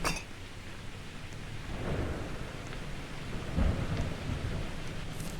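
Steady rain with rumbling thunder in a late-night horror video game about a night cleaner, a continuous wash of rainfall with a deeper thunder roll swelling partway through, no voices.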